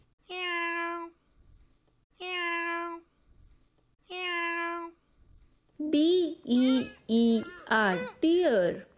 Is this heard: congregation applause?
no